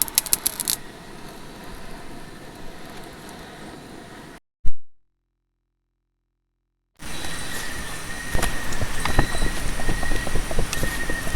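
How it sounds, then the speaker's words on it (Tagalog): Strong wind gusts across a campsite during a motocamping trip, a steady close roar of buffeting noise that cuts out to silence for a couple of seconds and then returns just as loud. "Lakas ng hangin."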